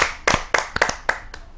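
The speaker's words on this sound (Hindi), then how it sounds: "आप सबके एक जोरदार तालियों से।" A handful of sharp, separate hand claps ring out close by at a Hindi kavi sammelan poetry gathering as a poet is welcomed, sparse and uneven rather than a full crowd ovation.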